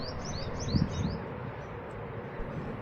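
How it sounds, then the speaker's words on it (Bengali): Birds chirp in Sharjah National Park, a quick run of high tweets in the first second followed by a steady outdoor background hum. "পাখিদের কিচিরমিচির আমরা একটু বেশি শুনেছি"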